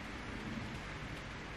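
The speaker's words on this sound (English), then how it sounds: "It's currently raining right now in Johannesburg." Steady rain falls in Johannesburg, a soft continuous hiss of drops with no break or change in level, heard alone at a low, even volume.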